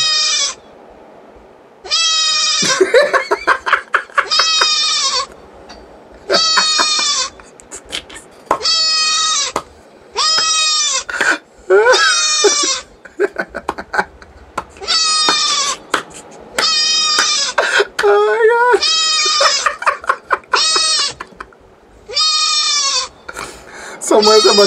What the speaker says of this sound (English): That goat is too noisy.